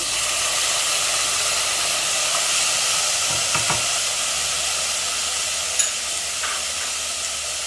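Chopped onion and tomato sizzling in oil in a pan for a mince curry, a steady close hiss throughout with a few soft stirring clicks.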